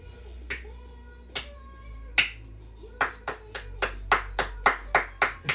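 Sharp hand claps ring out in a quiet room, at first a few scattered ones and then a quickening run of about a dozen even claps, loud and close, with no talk.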